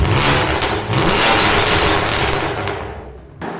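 A stage 2 modified BMW M2 Competition with an FI exhaust in sport plus mode gives a loud, close, continuous exhaust roar with crackling pops. It eases off near the end before a short final burst.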